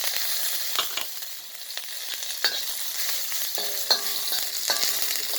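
Ginger frying in smoking-hot oil while papaya is being cooked, a steady bright sizzle with stirring scrapes and a few sharp spatters and ticks throughout, close and alone without any talk.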